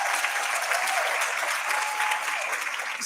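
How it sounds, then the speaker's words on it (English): Audience applause at a live women-in-sport event, sustained dense clapping from a crowd, fairly even and continuous. "We can give her a round of applause."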